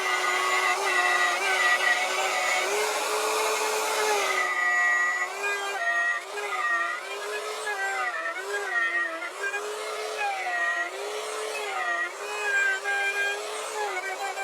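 A router fitted with a 1/2-inch bearing bit cuts a bass body, its loud high motor whine dipping and recovering repeatedly as the bit bites into the wood, close and continuous.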